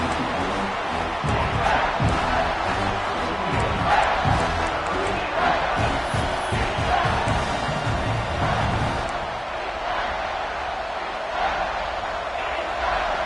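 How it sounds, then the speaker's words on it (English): A packed football stadium crowd roars to spur the home defense toward a red zone stop in the SMH vs Clemson game, a loud, sustained wall of cheering that eases slightly toward the end. "And here comes the noise. This crowd is trying to inspire this defense to make a big red zone stop."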